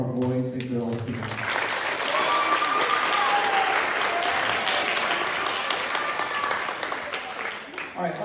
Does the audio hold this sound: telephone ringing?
no